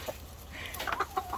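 A rooster in a backyard flock gives a few short, close clucks and chirps over a quiet steady background hum.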